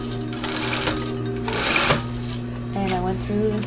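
A sewing machine stitches back through a fabric pleat on a pair of shorts. The motor drone is continuous and loud, with brief rattling bursts and faint talk near the end.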